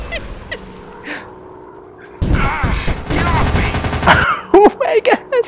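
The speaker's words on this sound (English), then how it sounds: "I'm dropping bombs!" Bombs dropped from a warplane in the air combat game Warplanes WW2 Dogfight, on a WW2 naval mission, set off a loud, rumbling burst of explosions lasting about two seconds, followed by excited speech.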